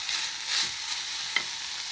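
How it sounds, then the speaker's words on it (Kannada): Onions for a chole gravy fry in a pan, a close, bright crackling sizzle with a couple of brief stirring scrapes, no voices. "ನೋಡಿ ಈ ಥರ ಫ್ರೈ ಮಾಡ್ಕೋಬೇಕು. ಈರುಳ್ಳಿ ಚೆನ್ನಾಗಿ ಫ್ರೈ ಆಗಬೇಕು"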